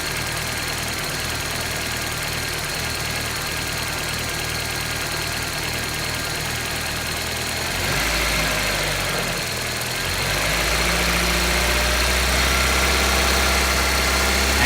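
A 1995 Geo Prizm engine idles steadily under a vacuum test, then the throttle is nudged and the low rumble swells and deepens slightly before settling; continuous, close, mechanical drone with no voices.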